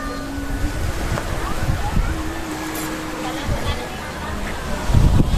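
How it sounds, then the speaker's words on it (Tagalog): Sea water washing and lapping at Sualig Bay in Cauayan, a steady wash of surf under wind noise, with a slightly stronger surge near the end. "Ang agos ng tubig sa dagat."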